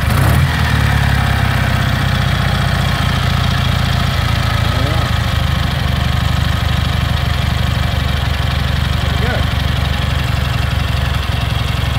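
A 1951 Douglas 90+ Replica Special 350cc motorcycle engine idles steadily and close by throughout, a low rumbling drone with slight irregular knocks.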